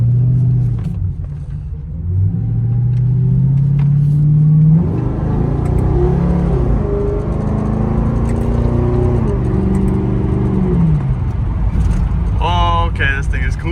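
A Ford Crown Victoria fitted with paddle shifters drones loudly up close, its engine note climbing in steps and holding steady as gears change, then dropping away at the end, with a brief high chirping sound near the close.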